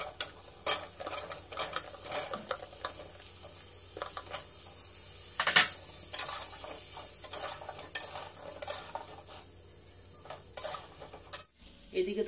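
Pointed gourd (potol) pieces fry in a pan with a soft, steady sizzle, punctuated by frequent scraping stirs and occasional spatula knocks, close but fairly quiet, with no voices.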